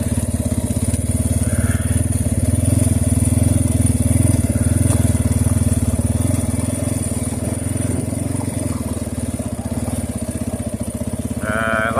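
An EGL Trailmaster TM38 300cc dirt bike runs loud and close on a rough trail of jumps and slides, its engine lugging at a steady low drone throughout, with a short rising whine near the end.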